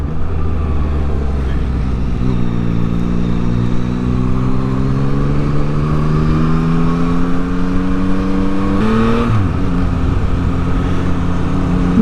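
Yamaha MT-09 motorcycle riding on the road, a steady loud engine drone that climbs in pitch through the gears, with a brief shift near the end.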